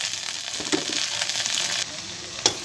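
Tomato pieces frying in oil in a pan, giving a dense, continuous sizzle up close, with occasional scraping stirs and a sharp clink near the end, and no voices.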